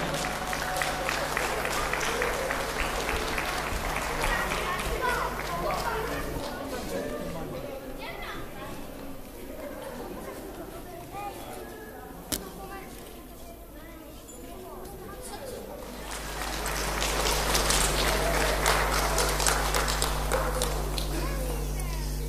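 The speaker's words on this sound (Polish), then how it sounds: "Brawa dla drużyny." Applause from a crowd at a youth football tournament, with a swell of clapping at the start and end, a public-address voice talking over it, and crowd chatter in the middle.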